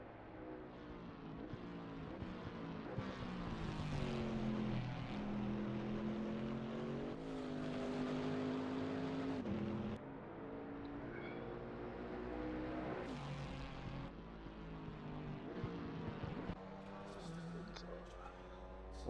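A Camaro race car in Assetto Corsa Competizione thunders up Mountain Straight with a steady, roaring engine, its pitch climbing through the gears, under nearly constant commentator talk.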